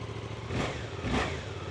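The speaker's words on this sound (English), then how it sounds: "This is what a stock 2024 GSX-8R sounds like with that exhaust not being changed." Stock-exhaust 2024 Suzuki GSX-8R motorcycle on a cold start, the engine firing and rising in two brief revs, moderately loud and close with no one speaking.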